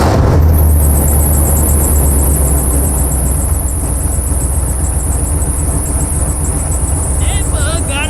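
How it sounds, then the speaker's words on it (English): A 2JZ-swapped car engine runs loud and close with a steady rumble and a high, sustained whine on top, while people talk nearby under the engine noise. "That bug got a race car motor in it."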